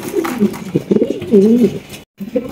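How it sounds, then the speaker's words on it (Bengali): A pair of Mondi pigeons cooing close by, several soft throaty rolling coos in quick succession with a brief gap before one more. "এখানে কিন্তু আমরা চমৎকার আরো এক জোড়া মন্ডি কবুতর দেখতে পাচ্ছি"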